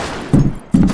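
Two heavy shotgun blasts from a video game, each a loud thumping boom with a short tail, spaced about half a second apart.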